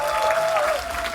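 An audience applauds at a political talk concert in Wonju, Gangwon Province, a dense, continuous wash of clapping heard close, with a sustained tone running beneath it.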